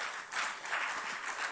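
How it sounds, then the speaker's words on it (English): A crowd at a national sport awards ceremony applauds, a steady, moderately loud roar of many hands clapping through the whole short stretch with no talking. "I'll pause a little bit so that we give him a big round of applause."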